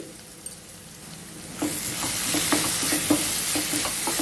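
Masala with garam masala, red chilli powder, tomato sauce and red chilli sauce frying in a pan, a steady loud sizzle that jumps up after a quieter start, with regular spoon scrapes and stirring clinks.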